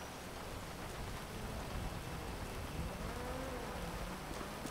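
Rain falls in Grand Theft Auto V during a police patrol, a steady hiss of raindrops with a faint low rumble and a soft tonal whine beneath, continuous and moderately quiet.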